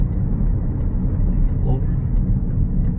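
Inside a 2020 Chrysler Pacifica minivan while it gains speed, a steady, loud low rumble of road and engine noise fills the cabin, with faint regular ticking over it.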